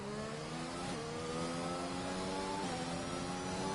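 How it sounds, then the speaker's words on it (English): Formula 1 car engine in F1 2021 racing game at the Australian Grand Prix, a loud steady high-pitched whine with rising harmonics as it accelerates, dipping briefly twice on gear shifts, no talk. "Into the final corner, and away then to the line for Smarty"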